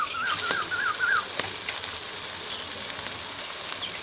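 Onions fry with green chillies and ginger-garlic paste for a gobhi karahi, giving a continuous close sizzling hiss. A bird chirps briefly near the start.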